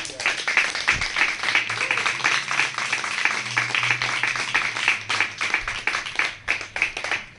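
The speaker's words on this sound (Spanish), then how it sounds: "Denle un aplauso al Eterno." A church congregation applauding during a Spanish-language service on a Torah portion, brisk rhythmic clapping from many hands with some voices and a low hum mixed in, continuing the whole time.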